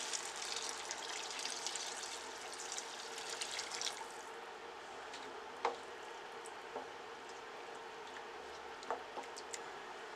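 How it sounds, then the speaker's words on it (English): Water runs into a pot of yellow split peas with a chicken foot for a Caribbean-style soup: a steady, soft rushing pour that thins after a few seconds, then quiet splashing with occasional small drips and taps. "I'm going to cover this with water."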